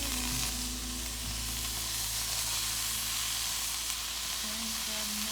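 Broccoli stems and mushrooms frying in a pan with a steady, close sizzle and hiss that runs unbroken, with faint stirring clicks underneath and no talk.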